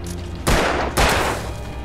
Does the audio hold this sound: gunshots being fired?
yes